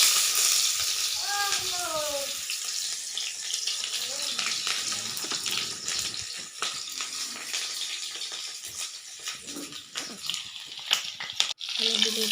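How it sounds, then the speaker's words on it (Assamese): Broiler chicken meat sizzles in hot oil with ginger-garlic paste, a steady crackling fry with stirring and scraping throughout while someone talks over it. "এইফালে লৈছোঁ ব্ৰইলাৰ মাংস, এয়া ভাজিব লৈছোঁ। তাতে আদা নহৰু পিছা।"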